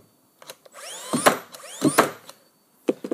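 A Bosch GNH 18V-64M cordless nailer set to maximum depth drives nails into wood, several sharp close shots, each with a short rising motor whir, with brief quiet gaps between.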